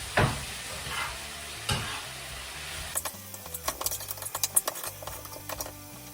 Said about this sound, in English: Move my chips around, give this a little stir around.